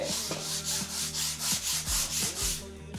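Sandpaper rubbed back and forth across a painted wall to remove roller texture, a steady rhythmic scraping of about ten close, even strokes with no talking.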